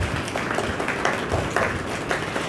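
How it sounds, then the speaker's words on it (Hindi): Eighth-grade students in a classroom clap softly and steadily together, a dense, muted patter of many hands at low volume with no voices over it. "आपने ऐसे तालियां बजानी है कि सिर्फ आपको आवाज़ आएगी, साथ वाले को आवाज़ नहीं आएगी। तालियां बजाएं।"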